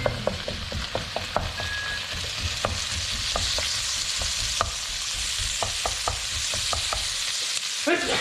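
Sliced red onion frying and sizzling in a pan for a beef stir-fry, with a steady hiss broken by repeated sharp scrapes and clacks of a utensil stirring and breaking up the onion.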